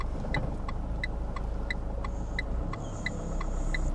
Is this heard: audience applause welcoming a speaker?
no